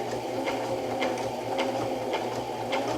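A sewing machine stitches the first seam of a rag quilt, a steady close mechanical hum with a quick regular pulsing rhythm throughout.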